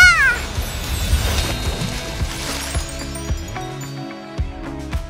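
A toy cat meows several times in quick succession, bright and close, mixed with light clattering and thumps.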